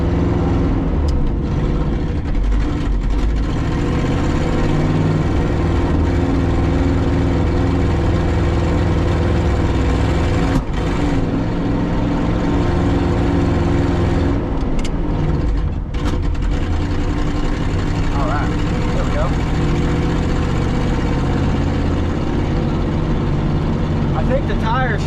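A 1967 Ford F250 crew cab truck crawls along in granny low gear at walking pace, its engine a steady low drone with faint mechanical shaking, while someone talks over it.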